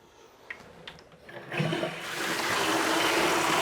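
A newly installed Delta shower head is turned on; after a few faint clicks and handling noises, water bursts out and settles into a loud, steady rushing spray.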